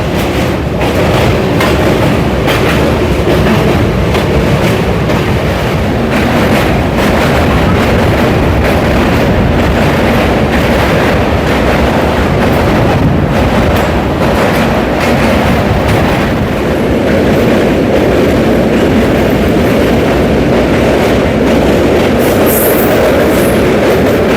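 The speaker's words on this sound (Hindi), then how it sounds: "अभी भारत के दूसरे सबसे बड़े रेल कम रोड ब्रिज पे ट्रैवल कर रहे हैं, मतलब कि ट्रेन से ट्रैवल कर रहे हैं" Train rolling across a long rail-cum-road bridge in India, a loud continuous rumble and roar with steady rattling wheel noise, heard from inside the moving train with no pauses.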